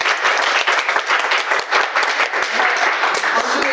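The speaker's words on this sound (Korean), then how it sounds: "이 시점에 박수 한번 쳐드릴까요?" A small audience applauds at a humanities program event, a brisk, close round of many overlapping hand claps that holds steady for a few seconds.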